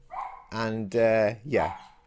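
A dog lets out three or four loud, close barks and yelps with short gaps between them, sharp and harmonic, heard alone without talk.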